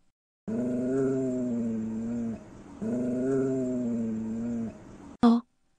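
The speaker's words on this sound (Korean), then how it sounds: "평소 온순한 몽실이가 갑자기 낮게 으르렁거리는 소리를 내기 시작했어요." Mongsil, a normally gentle pet dog, lets out two sustained low growls in close succession, each steady and drawn out, followed by a brief sharp snap at the end.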